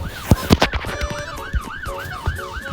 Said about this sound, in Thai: เสียงรถตำรวจอะไรอ่ะเสียงรถตำรวจมา